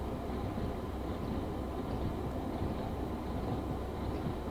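A Teesside Sprinter diesel unit coasting along the Tees Valley Line in Train Sim World 2, a steady low rumble and rolling drone with no talking.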